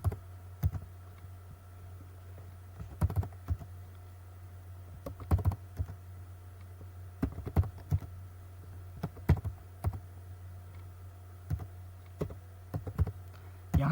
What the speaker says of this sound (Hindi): यहाँ पे मैं डाटा एंट्री कर रहा हूँ